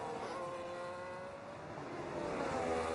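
Formula One race car leaving the pit lane in the F1 26 racing video game on the Madrid circuit, a faint, steady high engine whine that builds slightly, heard at a distance.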